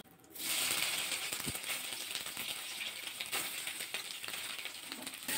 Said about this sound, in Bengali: এই তেলের মধ্যে সয়াবিনগুলো ভাজা করে নেব।